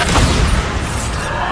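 A Bombarda spell in Hogwarts Legacy bursts into a loud, close, booming explosion that fills the short moment with a heavy rumble.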